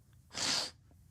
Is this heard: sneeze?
yes